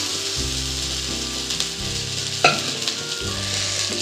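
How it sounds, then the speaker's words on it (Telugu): Garlic fried rice with turmeric, salt and chili is tossed in a hot pan, producing a loud continuous sizzle with a low rumbling hum and one sharp scrape of the spoon midway. "పసుపు మనం ఉప్పు కారం కలిపి పెట్టిన రైస్ కూడా వేసేసి కలిపేస్తాం"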